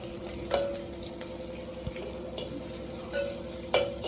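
Vegetables frying in a pan for an okra gojju, a steady loud sizzle and crackle throughout with a few brief spatters, no voices.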